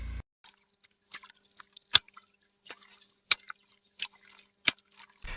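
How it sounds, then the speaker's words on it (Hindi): Footsteps squelch through wet mud in a horror-story sound effect, with sparse, wet squishes and drips spaced out irregularly against near silence, a few sharper clicks standing out. "जैसे कोई गीली मिट्टी पर चल रहा हो।"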